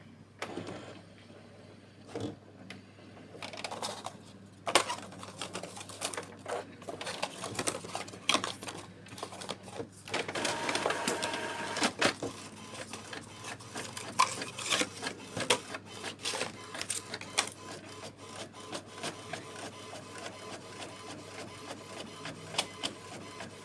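An HP DeskJet Plus Ink Advantage 6475 inkjet printer prints a color copy nearby, whirring and clicking as the carriage shuttles back and forth in uneven bursts, with paper feed rustles throughout.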